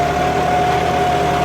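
A farm tractor engine runs at about 1600 rpm in first gear, a loud steady close drone with a constant tonal hum and a low rumble.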